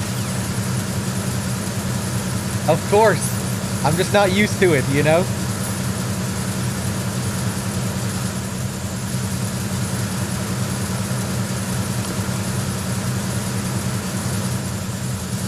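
Steady low engine-room hum aboard the tanker in Metal Gear Solid 2, a loud continuous drone running unchanged throughout while a voice talks briefly over it early on.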